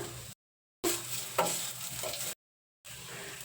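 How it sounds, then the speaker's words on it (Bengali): Ginger sizzles in hot mustard oil in a pan, giving a close, hissing crackle with a few sharper pops, in short bursts separated by silent gaps. "আমি এখন সর্ষের তেল দিয়ে দিচ্ছি কিছুটা দিয়ে দিচ্ছি আদাটা"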